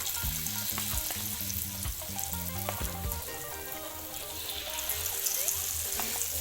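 Tempeh frying in hot oil gives a steady, close crackling sizzle that runs the whole time, with tonal background music alongside.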